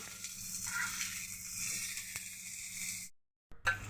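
Onion frying and being stirred in a pan ahead of adding boiled instant noodles, a steady close sizzle that runs for about three seconds, breaks off into silence, then resumes with a brief scrape.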